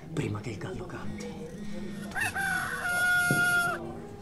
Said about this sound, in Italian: Pietro, prima che il gallo canti